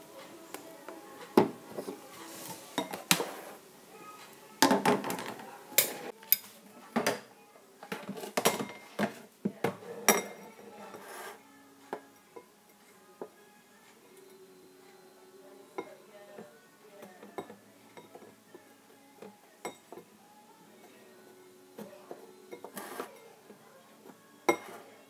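A spoon scrapes and stirs orange colour into lip balm in a bowl, giving irregular clinks and scraping taps, louder early and then softer and sparser.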